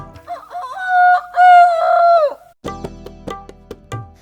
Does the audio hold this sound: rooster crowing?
yes